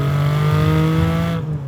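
The flat-six engine of a Porsche Cayman GTS sustains a loud, close, steady rev with a deep harmonic-rich drone, cutting off abruptly near the end; no talking.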